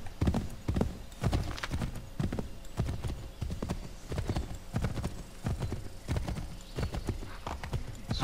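A horse in the video game Assassin's Creed III gallops with heavy, rhythmic hoofbeats in quick repeating clusters, close and steady throughout, with a brief whinny and no talking.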